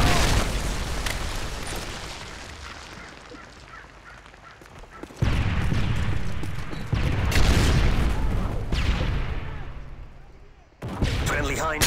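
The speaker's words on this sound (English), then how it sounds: "Ready for launch. Friendly Predator missile inbound." Predator missile strikes in Modern Warfare 3 land as a run of loud, heavy explosions and rumbling booms with abrupt starts, mixed with gunfire and game radio voice lines.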